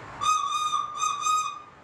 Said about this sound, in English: So this one is more like a whistle.